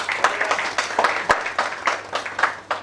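Scattered applause for a quiz contestant at a banking quiz semi-final, a few irregular claps rising and falling at moderate distance with faint room noise.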